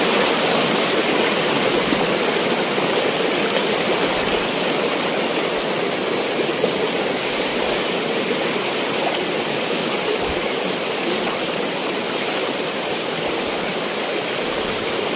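A river flows steadily at a forest creek crossing, filling the whole stretch with a loud, dense, unbroken rush of water and no voices.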